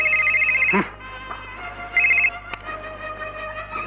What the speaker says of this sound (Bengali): Sir phone.